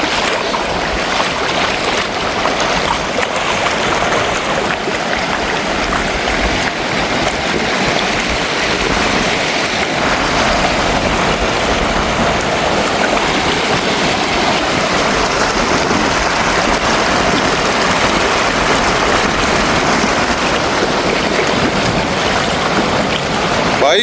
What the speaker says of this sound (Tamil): பாலத்தால தண்ணி வாயுது.